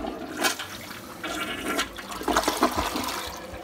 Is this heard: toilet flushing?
yes